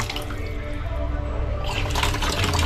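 Water streaming from a newly installed faucet, a steady hissing splash that grows fuller partway through, close and fairly loud without talk.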